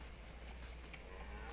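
A cow moos faintly in Farming Simulator 25, buried in a steady, noisy farm background.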